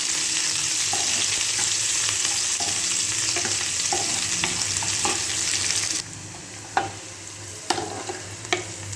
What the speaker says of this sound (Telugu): ఇప్పుడు దీంట్లో ఉల్లిపాయ ముక్కలు వేసేసి వీటిని ఫ్రై చేస్తాం